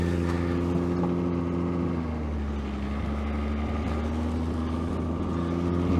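The engine of a scrap Ford Falcon running in gear, a loud, steady, droning rumble heard up close, with its pitch dipping slightly midway as the load shifts.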